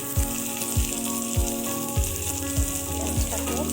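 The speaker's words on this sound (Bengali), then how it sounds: "এবার এই ভাজা মশলার মধ্যে দিয়ে দেব কুচি করে রাখা পেঁয়াজ" Chopped onion frying in a spice paste for a soybean and potato curry, a continuous close sizzle broken by regular low thumps of stirring about every half second, with no talking.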